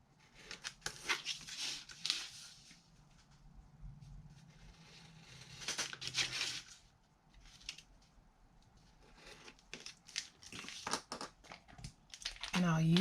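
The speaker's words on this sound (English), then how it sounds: "So I am going to just cut them out." Scissors cut the corner rectangles out of a sheet of paper for a mini notebook craft, giving close bursts of crisp snipping and paper crinkling in uneven clusters, with quiet pauses between cuts.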